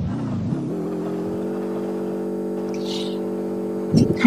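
A game car in Drive Mad, a Fancade game, accelerates: a steady, buzzy engine drone rises in pitch, then holds a constant whine for several seconds before a brief clatter at the end.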